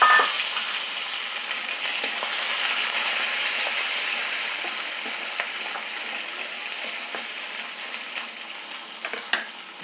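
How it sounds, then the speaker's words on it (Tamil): Curry leaves and small shallots sautéing in hot oil, a bright, steady hiss and sizzle close by with occasional light clicks of a spoon, and no voices. "கொஞ்சம் கருவேப்பிலை, சின்ன வெங்காயம்,"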